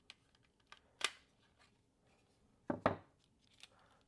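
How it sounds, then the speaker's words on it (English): Plastic clips on a game controller being pushed out and the shell peeled apart: a few sharp, close plastic clicks and snaps, with a louder double crack near the end and faint small ticks between. "Push them out, and now we could easily peel apart the controller."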